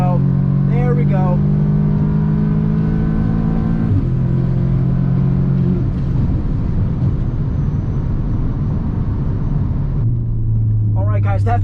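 Stage 2 Audi S3 launching hard down a drag strip, its engine note climbing steadily through the gears, loud and close with brief shift dips, as someone speaks over it at the start and end.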